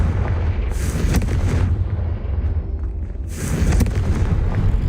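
In the video game Hogwarts Legacy, the fire spell Confringo goes off in two loud, close, rumbling fiery blasts, each swelling and then fading into a low roar.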